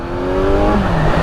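Kawasaki Z900 SE motorcycle engine revving under throttle, a loud, close, steady roar with pitch shifting slightly over a short burst.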